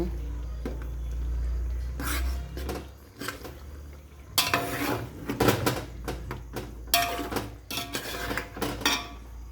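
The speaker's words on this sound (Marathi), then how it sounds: "तर ह्याला आपण मस्त हलवून घेऊ" A pot of white chicken pulao stirred with a metal spoon, irregular clanks and scrapes against the pot in bursts after a quieter start, close by with no clear speech.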